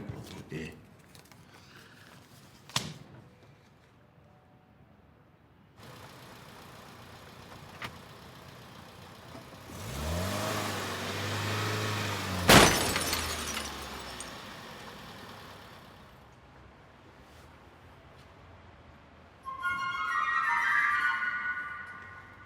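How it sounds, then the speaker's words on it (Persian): In a scene from the Persian film Cheshm o Gush Basteh, a car engine swells and roars, then a single sharp crashing impact lands. A lower rumble and other noises follow, with voices talking at times. "خدا زد ماشین داغون کرد."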